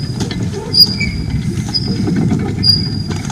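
An old cart rolls along rails with a loud, close low rumble, and metallic wheel squeals cut through at intervals.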